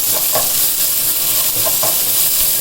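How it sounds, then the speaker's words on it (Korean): Onion and jalapeño stir-fry in a lightly oiled pan, a loud, close, continuous sizzle with soft stirring knocks under it and no voices. "기름 살짝 두르고 양파, 할리피뇨 고추 넣고 피리릭 볶아주세요."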